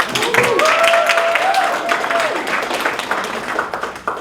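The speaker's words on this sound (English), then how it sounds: "So yeah, another round of applause." An audience applauds an award recipient at a school end-of-year ceremony, with steady, dense clapping in a hall and a voice calling out briefly over it.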